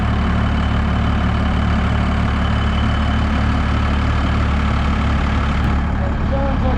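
A first-generation Cummins turbo diesel engine in an older Ram truck idles with a steady, loud low-frequency rumble and clatter throughout, continuous and unchanging, recorded close to the engine after sitting unused.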